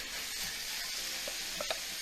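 Steady, close sizzling and crackling of chicken frying in a hot pan, a constant hiss with a few small pops, no talking.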